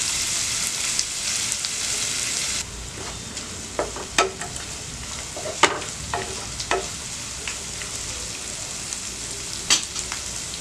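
Soya chunk poha upma sizzling steadily in a hot pan, a continuous bright frying hiss broken by sharp scraping stirs of a spoon, with no voices.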